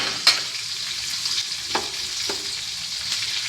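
Small sambar onions frying in a pan for bitter gourd pulusu, giving a steady close sizzle with a few soft clicks of a stirring spoon, no voices.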